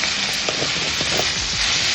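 Onions sautéing in a pan for a tomato kurma, giving a steady close sizzle and crackle that runs without a break and with no talking over it.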